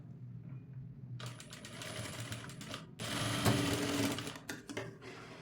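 A sewing machine stitches along blouse edges in short bursts of rapid mechanical chatter, stopping briefly between runs and growing louder partway through.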